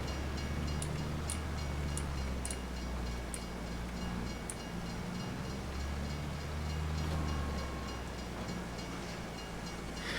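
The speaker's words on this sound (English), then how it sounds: "Train coming." A train rumbles past in the Farming Simulator 22 video game, a steady low rolling drone with periodic clicking rail beats and a faint horn-like tone, with a brief spoken remark over it.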